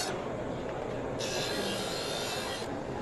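A kitchen knife has its edge reset on an Edgecraft sharpener with 100% diamond abrasives, giving a steady close grinding rasp throughout that turns brighter and harsher partway through, with no talking.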